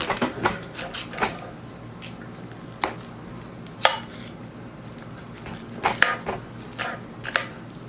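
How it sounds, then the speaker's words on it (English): A knife and fork working into a honey soy ginger garlic pork chop on a plate, giving scattered sharp clinks and scrapes of cutlery on the dish with quiet pauses between, close and soft. "Time to break into this bad boy pork chop"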